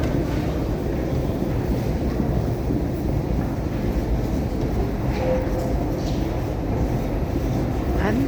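A train rumbles past overhead in a downtown area, heard from underneath as a loud, steady, broadband roar with wind buffeting that fills the whole stretch without a break.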